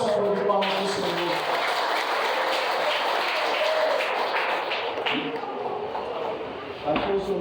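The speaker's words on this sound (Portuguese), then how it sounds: "Dê uma salva de palmas ao Senhor." Church congregation applauding for the Lord, a moderate continuous patter of hand claps filling the room at middling distance, easing slightly toward the end before a final bump.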